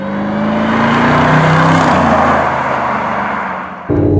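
Mercedes SLR supercharged engine under load from inside the car, a loud sustained roar with a rising supercharger whine that holds, then drops off briefly before picking back up.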